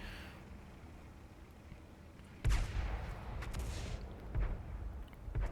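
A tank cannon fires in World of Tanks with a sharp, booming report, followed by rumbling battle noise and a second heavier blast near the end, all loud and close with no talk.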